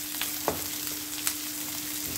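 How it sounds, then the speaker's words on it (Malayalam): Sliced onion sautés in a pan with a steady close sizzle, broken by a few quick clicks and scrapes from stirring, and no one speaking. "അതൊന്ന് ചെറുതായിട്ട് നമുക്കൊന്ന് വഴട്ടിയെടുക്കാം"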